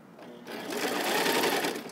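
A domestic sewing machine stitching fabric, a steady close mechanical whir that starts abruptly and runs continuously, with a voice faintly underneath.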